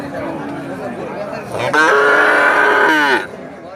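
An Australian-breed heifer calf at a village cattle market lets out one long, loud moo midway, with faint crowd chatter in the background.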